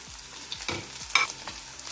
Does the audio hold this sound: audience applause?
no